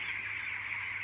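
A crowd of fifteen-day-old chicks fills a cool poultry shed with a continuous, high-pitched peeping chorus, steady and moderately faint, with no talk.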